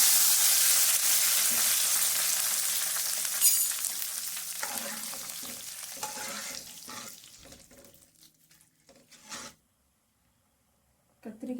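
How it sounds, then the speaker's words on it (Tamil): Eggplant curry poured into a hot tempering pan with curry leaves, giving a loud broadband sizzle that slowly fades, broken by scraping and stirring clatters, then near silence before a final brief burst. "இப்போ கத்திரிக்காய் குழம்ப ஊற்றி தாளிச்சிக்கலாம்."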